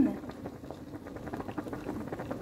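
A pot of vegetable salad bubbles at a steady boil, close and fairly quiet, with continuous small pops and gurgles.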